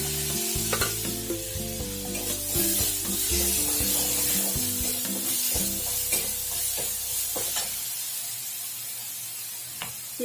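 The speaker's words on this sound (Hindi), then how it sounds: "अब ई लहसुन अहाँके दऽ रहल छियै" Garlic, freshly ground from three or four cloves, sizzles and crackles in a small amount of hot oil in a pan. Frying hiss runs steadily and loud throughout, with stirring clatter and scraping on top.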